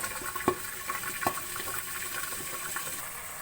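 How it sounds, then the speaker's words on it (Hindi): Water poured into a hot pot of browned onions sizzles and bubbles in a steady, close hiss, with a couple of sharp spits near the start. "थोड़ा सा ऐड करेंगे हम पानी और फ़ौरन कवर कर देंगे"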